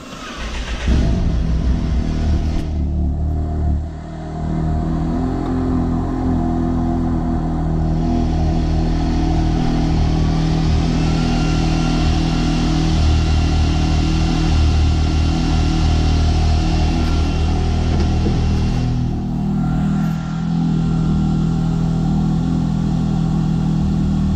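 A Can-Am Maverick X3 UTV engine cranks and fires up, then settles into a loud, steady running drone that holds close by without pause.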